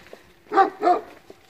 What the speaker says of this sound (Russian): А вот он, собачка. Не гавкай.